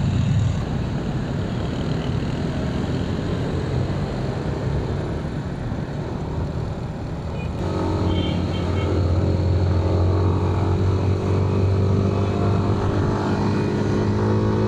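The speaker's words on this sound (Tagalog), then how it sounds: "Araw-araw to matraffic dito." Busy morning street traffic, a steady loud rumble of engines that continues without a break and grows heavier about halfway through, heard close by with no clear voices.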